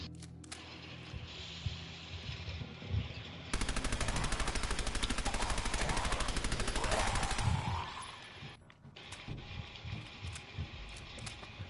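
Gunshots in Fallout 4, a long, loud rapid burst of automatic fire lasting several seconds, set between quieter stretches of game ambience.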